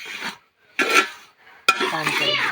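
Flour roasting in a pan, stirred by hand: three separate bursts of dry rasping and scraping against the pan, close and fairly loud, with quiet gaps between them.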